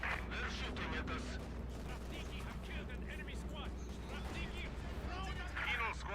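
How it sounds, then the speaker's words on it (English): Battle gunfire in Company of Heroes 2, a Soviet-front strategy game: dense crackling shots and distant booms roll steadily under the fight, with voices speaking throughout. "They're shooting at us."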